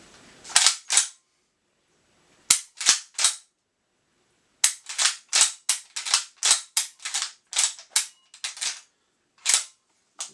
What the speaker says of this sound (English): Okay, so cycling gun.